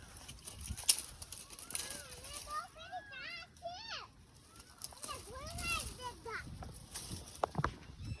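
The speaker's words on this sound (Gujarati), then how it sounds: "જો મોરલો બોલો" Several loud, wailing peacock calls rise and fall a few seconds apart outdoors in hills, with children's voices and rustling in the background.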